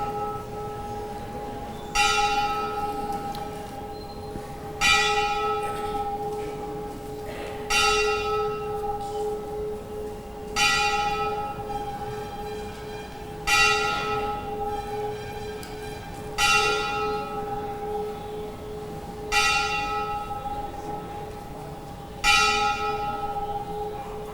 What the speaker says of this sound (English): Such a beautiful bell.